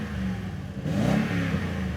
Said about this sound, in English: this is going to add to the sound of your exhaust